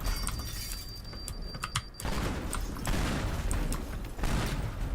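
Big explosions tear apart a building in the destruction game Teardown, with loud shattering, crumbling debris and sustained rumbling bursts that continue close and dense throughout.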